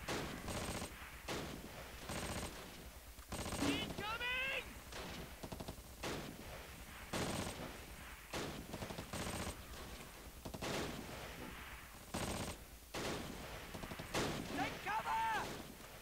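Gunfire in the World War II video game Close Combat comes in repeated bursts of rifle and machine-gun shots, fairly close and sharp, with short radio-style voice callouts in between.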